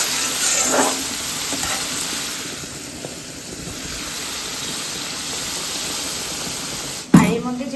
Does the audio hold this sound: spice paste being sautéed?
yes